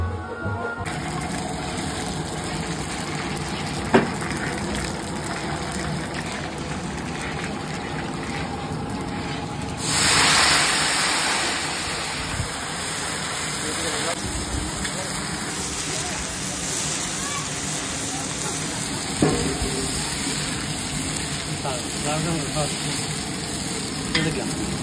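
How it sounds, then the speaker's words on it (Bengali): Dal (lentils) boiling in a pot on a home stove: a continuous close bubbling and hissing with occasional knocks, and a voice briefly heard in the background. "ডালটা কি সুন্দর ফুটতেছে"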